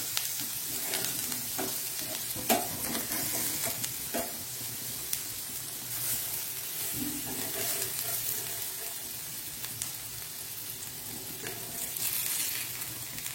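Masala fish frying in a pan at a riverside cooking spot, a steady sizzle running throughout, with scattered clinks and scrapes as the pieces are turned over, no talking.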